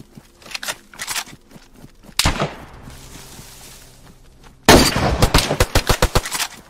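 Gunfire in the DayZ Standalone survival game, loud and close: a burst of rapid cracks early on, one heavy boom around the middle with a long decaying echo, then a dense volley of sharp, evenly spaced shots.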